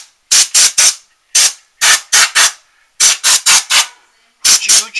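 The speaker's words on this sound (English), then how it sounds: "I'm going to spray it out and wipe it down a little bit" Several bursts of aerosol spray cleaning out the cover of a Coca-Cola Pizza Shop LED clock, fired in quick clusters of three or four short hisses with brief pauses between, close and loud, no talking.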